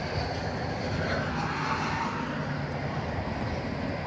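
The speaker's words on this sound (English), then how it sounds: "Flight 1159 off to Phoenix, Arizona, Airbus A321neo." An Airbus A321neo jet departing DFW Airport for Phoenix gives off a steady, moderately loud broadband roar. The roar holds evenly across the moment with no clear peak and no talk over it.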